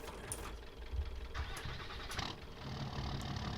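A vehicle engine in Farming Simulator runs and shifts while being driven to a parking spot, a low mechanical drone at fairly low level with a few short clunks and a rise in revs toward the end.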